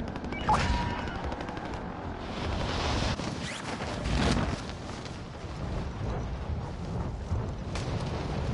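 Gunfire during a Call of Duty Resurgence match, with rapid bursts of automatic shots and heavier blasts rattling at mid distance over a constant battlefield din.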